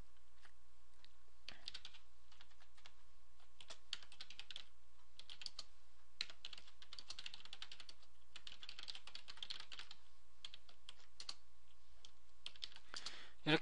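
Rapid keystrokes on a computer keyboard while a prompt string is entered into a program, coming in irregular bursts of close, crisp clicks over a faint steady hum, with a brief louder clatter at the end.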